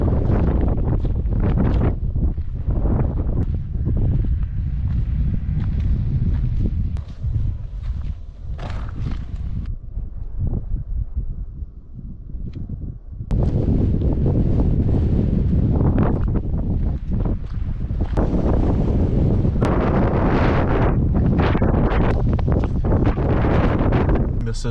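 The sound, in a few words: strong wind gusts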